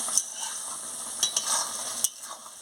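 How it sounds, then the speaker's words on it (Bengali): Ridge gourd, potato and pointed gourd cook in poppy-seed paste with mustard oil drizzled on top, stirred in a pan: a short run of sizzling with quick scraping clicks of the spoon, no talking. "সরষের তেলটা ছড়িয়ে দিয়ে ভালো করে একটু নাড়িয়ে নিচ্ছি।"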